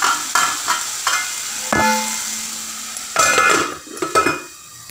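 Ginger garlic paste fries in a pan for a ghee mushroom curry. A steady close sizzle hisses under intermittent clinks and scrapes from a stirring spoon, with a louder burst of stirring near the end.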